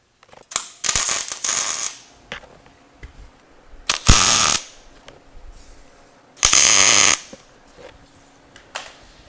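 A fender bracket is tack welded in three loud, crackling bursts of about a second each, separated by quiet pauses with faint handling clicks.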